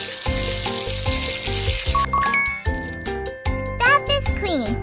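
Water rinsing a bath in a children's cleanup makeover video game, a bright splashing, hissing spray over a bouncy looping music track, followed by twinkly chime and sparkle effects, fairly loud throughout.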